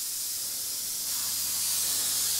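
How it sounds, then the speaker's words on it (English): An airbrush sprays paint in a steady, continuous hiss, close and uninterrupted, growing slightly louder toward the end. "Okay, so I'm going to spray from this side now"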